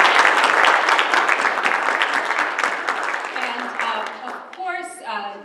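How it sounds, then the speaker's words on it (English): Audience applause for a colleague at a university philanthropy research event, dense clapping from a crowd that gradually thins and tapers over several seconds, with voices and a few cheers emerging near the end. "I think deserves a round of applause"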